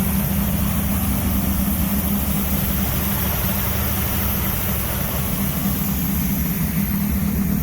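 A vintage street machine car engine idles loudly and steadily throughout, a dense low rumble with constant exhaust roar close by and no voices.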